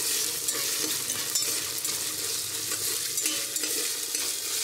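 Peanuts roasting in a pan, giving a steady dry sizzle with scraping stirs and faint ticking of kernels throughout, close and alone without talk.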